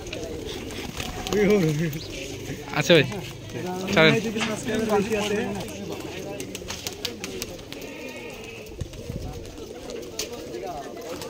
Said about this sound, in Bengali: এটা সবুজ কালার কবুতর, ভাই বলছে ডুগি কবুতর